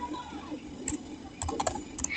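Router commands being typed on a computer keyboard during Cisco BGP configuration: a quick run of close keystroke clacks, with a busier cluster near the end. No one speaks.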